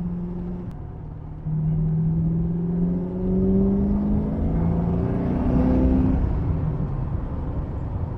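A 1987 TVR 390SE's V8 engine and exhaust while driving, a bassy, raspy drone heard from inside the car, with pitch rising steadily through acceleration before easing off, continuous and fairly close.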